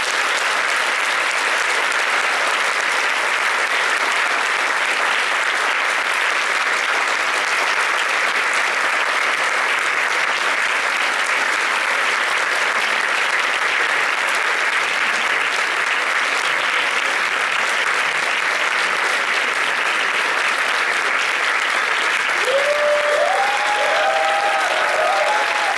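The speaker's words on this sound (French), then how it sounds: "Applaudissez-les bien fort." Festival crowd at a film screening applauds the screenwriter and lead actor, long unbroken applause filling the hall, loud and steady throughout with a few faint voices near the end.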